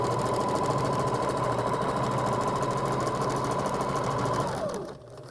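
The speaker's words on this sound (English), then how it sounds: "I'm just going to go with the straight stitch and go straight on down, tack it up here with another zigzag" A sewing machine runs a straight stitch along the seam of a dress, a steady fast mechanical whir with rapid needle chatter, close and loud, winding down and stopping near the end.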